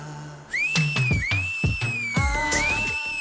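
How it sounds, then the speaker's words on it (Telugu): A person whistles loudly and shrilly in an Indian TV drama scene, a sustained piercing tone that swoops up and down in pitch over several seconds while heavy, rhythmic drum hits pound beneath it. "చెవులు చిల్లు పడేలా అంత గట్టిగా ఈలేస్తున్నావేంటి?"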